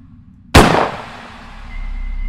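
One sharp, loud gunshot cracks in the Ylands game while a mutated hyena is shot at, with a decaying tail after the blast over low background rumble.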